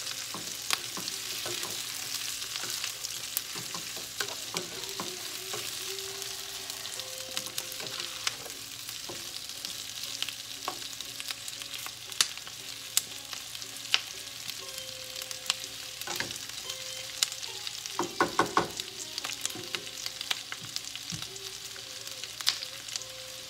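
Boiled potatoes and onions sauté in a pan for capsicum and potato curry, a steady close sizzle with intermittent scraping stirs and light clinks throughout.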